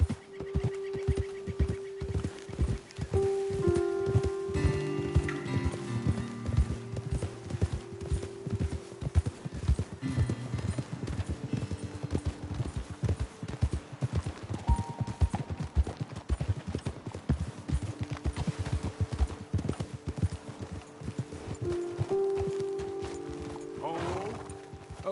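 Horses' hooves clip-clop at a trot in a video game, a steady rhythmic patter that runs throughout beneath spoken dialogue and background music tones.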